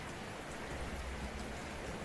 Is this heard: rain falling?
yes